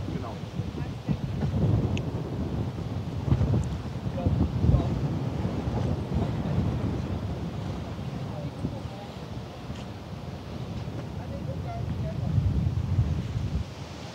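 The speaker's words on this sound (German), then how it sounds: "es ist richtig windig hier in Hamburg" Strong wind roars and buffets the microphone in a continuous low rumble in Hamburg's harbor area, with people talking intermittently underneath.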